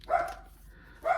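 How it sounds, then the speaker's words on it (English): A dog barks twice in the background of a quiet indoor room, the two short yelps about a second apart and fairly faint. "There goes my dog."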